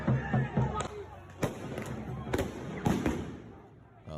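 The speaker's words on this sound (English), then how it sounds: "Well, those are fireworks," Fireworks pop in sharp, scattered bangs at a Seattle street protest, several distinct reports spread over a few seconds amid a murmuring crowd and distant voices.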